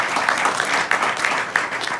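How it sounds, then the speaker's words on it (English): An audience at a Houston business meeting claps, a fairly loud burst of many hands with a few sharp individual claps standing out at a loose, uneven rhythm, heard alone without talk. "Clap it up for the Platinum"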